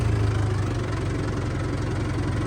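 A steady tractor engine idles nearby with a low, even rumble and a faint knocking rhythm, running continuously without pause.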